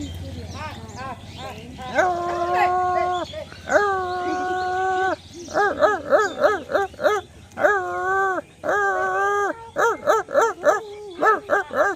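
A person's voice imitates a dog barking, with long sustained howl-like barks followed by rapid bursts of short yapping barks, loud and close.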